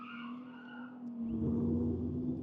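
Race cars circle the track at Toronto Motorsports Park during a lapping day. A faint, distant engine drone holds steady and then thickens with tire and road noise as a car draws nearer, with no talking.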